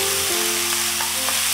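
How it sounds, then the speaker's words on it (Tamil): Onion, tomato and cashew nuts sautéing in oil for butter chicken masala, a dense, loud, continuous sizzle heard up close, with a faint low hum underneath and no talk. "வெங்காயம் தக்காளி நல்லா ஆயிலில் வதங்குது"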